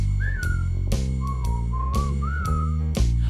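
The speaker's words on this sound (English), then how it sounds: "Just purse your lips and whistle, that's the thing." A clear, bright whistled melody rises and falls over a steady musical accompaniment, a whistled line within a performance of a song.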